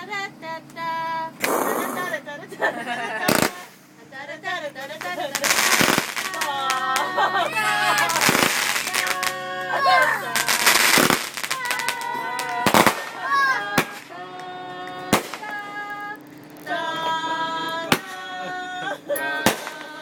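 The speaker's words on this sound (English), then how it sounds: "What was that? Fireworks." A grand finale of fireworks pops and crackles in a rapid, irregular string of sharp bursts, with people close by talking, cheering and humming over it.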